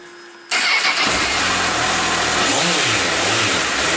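A Honda CBF1000 GT motorcycle engine fires up abruptly after a brief quiet moment, then settles into a loud, steady, close-up idle with a deep throbbing rumble and no talk.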